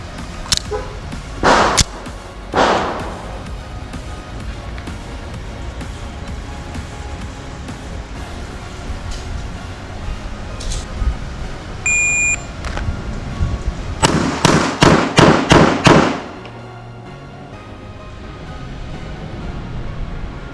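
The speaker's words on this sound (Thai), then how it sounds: "เดี๋ยวผมจะทำการยิงบิลดริลนะครับ ที่ระยะประมาณ 7 หลานะครับ ด้วยกระสุนจำนวน 6 นัดนะครับ" Shots from an STI Apeiro .45 ACP pistol at about seven yards: a few sharp reports early on, then a rapid six-round bill drill in quick succession near the end, loud and close.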